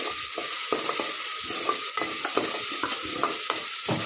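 Okra being stir-fried in a pan with turmeric, ginger and garlic: a constant bright frying hiss under repeated rhythmic scrapes and taps of a spatula against the pan, close and steady.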